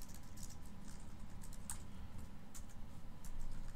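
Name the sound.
typing a new password on a computer keyboard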